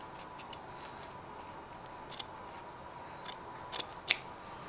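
Scissors snip away embroidery backing from a beanie hat, giving quiet, close, scattered crisp cuts with a few sharper snips near the end.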